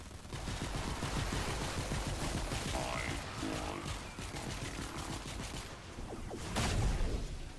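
Dense, continuous rapid gunfire in Fortnite Save the World during a zombie wave, a steady crackling barrage with no pauses, heard fairly faint and compressed.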